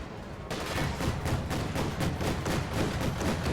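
Dense, rapid gunfire from a war strategy video game crackles continuously, with overlapping bursts and thuds layered into a loud, busy battle din.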